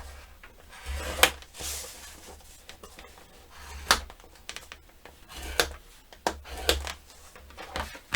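Paper for a mini album being scored on a scoring board, a series of sharp, close clicks and scrapes spaced irregularly with quiet gaps, no talking.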